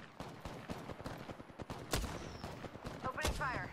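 Rapid gunfire from a video game crackles in quick irregular volleys of sharp shots, moderately loud, while players talk over it.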